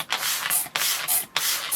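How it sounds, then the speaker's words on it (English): A spray bottle spritzing mist over Lepanthes orchids, three quick hissing bursts in an even rhythm, close and loud, with no voices. "give them a little spritz"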